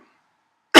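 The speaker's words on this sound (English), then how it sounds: "Cough." A single short cough bursts out near the end after near silence, close and fairly loud, during an informative industry presentation.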